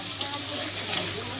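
Potato pieces with chili powder frying in a pan, a soft continuous sizzle with light stirring scrapes and a couple of small clicks, heard close and fairly quiet.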